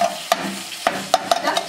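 Ground spices toast lightly in a hot dry pan while a utensil stirs and scrapes them, giving a soft continuous sizzle broken by several sharp clicks and taps of the spoon against the pan.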